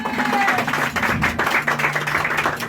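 An indoor audience applauds after a product demonstration, giving a brisk, continuous round of clapping that holds at an even level for a few seconds with little talk.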